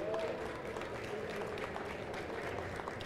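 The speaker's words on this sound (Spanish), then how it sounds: "si le pueden dar un fuerte aplauso a Cristian" A fairly quiet audience at a science and open hardware biology talk gives applause for a guest biohacker, with soft, scattered clapping and crowd murmur throughout.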